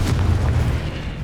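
Confringo blasting spell in Hogwarts Legacy erupting as a single deep, loud explosive boom with a heavy low rumble that fades quickly.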